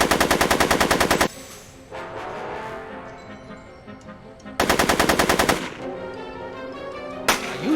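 Rapid automatic gunfire in a Back to the Future video game, two loud sustained bursts and a short third burst, separated by echoing, rumbling ambience.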